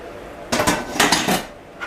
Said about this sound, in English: I'll just bring the pan right here for now.